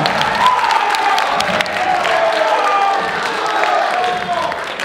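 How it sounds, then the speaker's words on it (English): An audience at a high school pageant claps and cheers in a sustained burst of applause, with whoops and shouts rising over the dense clapping for the whole stretch. "Can we give a round of applause for him, please?"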